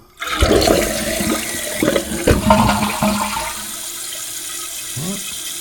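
A toilet flushes with a rush of water, then settles into a steady, quieter hiss of the tank refilling.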